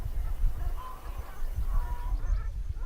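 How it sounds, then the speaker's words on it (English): Canada geese fly past over a marsh and tidal mudflats, giving a few distant honks over a low, constant outdoor rumble. "Some Canada geese just fly by."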